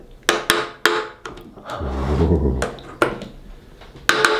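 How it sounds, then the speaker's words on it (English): A screwdriver prying open a delivered package, with sharp clicks and knocks, a stretch of scraping and rubbing in the middle, then more snaps, close up and without speech. "You just gave me a rubbish screwdriver to do this with"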